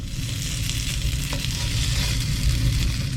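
Sheets of tofu skin fry in a thin layer of hot oil in a pan, giving a steady, close, crackling sizzle with no one talking.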